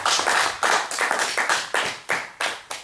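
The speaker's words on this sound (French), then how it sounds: "On peut acclamer la parole de Dieu." A church congregation claps in acclaim, a run of about ten sharp, fairly loud hand claps in a slightly uneven rhythm, with no voices over them.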